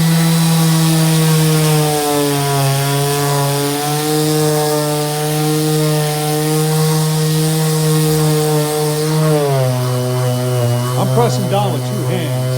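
TOPSHAK 5-inch random orbit sander running on oak with 60-grit paper, a loud steady motor whine with strong droning harmonics that dips slightly in pitch as pressure is applied near the end, continuous and close.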